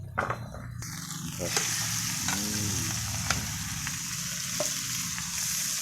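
Squid stir-fried with holy basil in a hot pan, a loud continuous sizzle with the scrape of stirring and occasional clinks of the utensil, close by.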